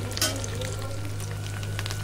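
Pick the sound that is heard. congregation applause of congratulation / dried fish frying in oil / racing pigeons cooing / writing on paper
dried fish frying in oil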